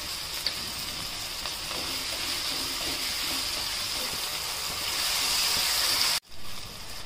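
Tomatoes simmering in a pan with turmeric and salt give a steady, close sizzle and hiss that runs unbroken, then cuts off abruptly near the end.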